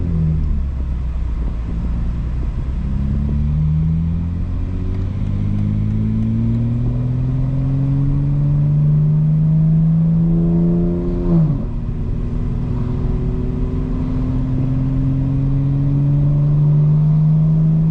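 A 2025 BMW M4 Competition xDrive on a city drive accelerates through the gears, engine note rising steadily, dipping at a shift around the middle, then climbing again; loud, close cabin rumble with no talk.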